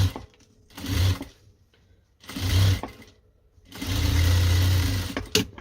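A sewing machine runs a securing seam on a zippered pencil case with three compartments, stitching in three separate bursts, each about a second long, with short pauses between them, close up with no talk.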